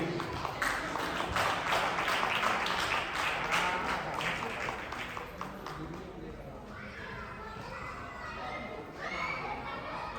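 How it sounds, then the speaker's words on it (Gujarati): Audience applause for Samirbhai Shukla at a business members' and sponsors' event, a loud sustained clapping crowd that fades to scattered claps, with a speaker's voice over it. "વન્સ અગેન એક વખત આપણે બધા તાળીઓથી એમને એપ્રિશિએટ કરીએ."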